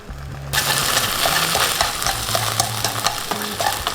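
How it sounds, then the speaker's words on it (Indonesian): Canned corned beef frying in a little oil in a pan, with a soft sizzle under frequent scraping and stirring of a utensil against the pan, nearby and without speech. "ini kita akan goreng dulu atau tumis dulu kornetnya sampai dia ada kecoklatan"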